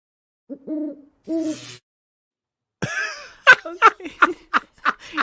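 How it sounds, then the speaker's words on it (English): A played recording of an owl gives two low, drawn-out hoots, and after a long pause a burst of laughter and breathy chuckling follows close by. "it's the owl that kills you every time, isn't it?"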